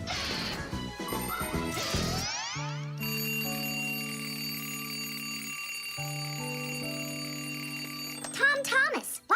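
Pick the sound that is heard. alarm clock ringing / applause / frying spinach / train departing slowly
alarm clock ringing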